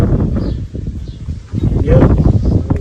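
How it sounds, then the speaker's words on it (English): Gusty wind buffets and rumbles close to the microphone, with leaves rustling and a brief faint bird call. "It's really windy right now."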